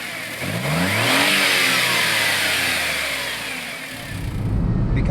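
A Honda S660 with its 660cc mid-mounted engine and six-speed manual revs up hard, rising in pitch and holding a loud, buzzy, vibrating drone before easing back, close and with no talk.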